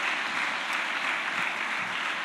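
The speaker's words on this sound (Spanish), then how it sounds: "les saluda con un fuerte aplauso" Steady applause from a church congregation, a dense even patter of clapping heard alone with no talking over it.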